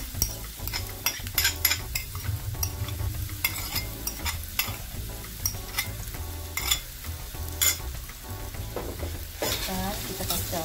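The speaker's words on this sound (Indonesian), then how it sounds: "kami masukkan bawang dan merah dan bawang putih" Shallots and garlic sizzle steadily in hot oil for braised duck, with a utensil clinking and scraping against the pan in frequent strokes, close and fairly loud.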